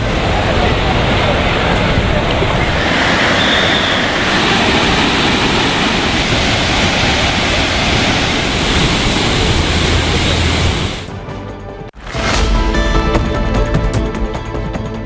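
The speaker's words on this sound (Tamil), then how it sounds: "இதனால் நீரின்றி வறண்டு கிடந்த ஒகேனக்கல் அருவிகளில் தண்ணீர் ஆர்ப்பரித்து கொட்டுகிறது." Water roars down the Hogenakkal waterfalls as a loud, unbroken, hissing roar that dips briefly near the end before surging back.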